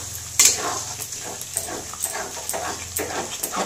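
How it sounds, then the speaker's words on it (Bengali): A spoon stirs green jackfruit curry cooked with mutton fat and yogurt in a pan over low gas, soft rhythmic scrapes and light sizzling repeating about twice a second, close and fairly quiet. "কন্টিনিউ নাড়তে হয়।"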